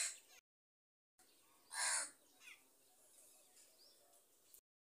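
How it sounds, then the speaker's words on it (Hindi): Crows perched near a water dish and scattered rice in the morning give a short, fairly distant caw, followed by a few fainter calls and chirps against a quiet background, with brief gaps of silence. "जी, कौवे आकर बैठे हुए हैं, वहाँ पानी पी रहे हैं"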